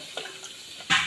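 Water poured into a pressure cooker of potatoes: a soft, steady trickle near the start, then a louder, brief splashing gush at the end, close by with no talking.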